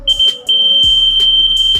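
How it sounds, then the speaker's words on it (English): Piezo buzzer on an Arduino smart blind stick, triggered when an ultrasonic sensor detects an obstacle, sounding a loud, close, high-pitched continuous beep with a brief break, alongside a low vibration-motor hum. "As soon as obstacle come in front of stick, then buzzer will turn on and vibration motor will also turn on."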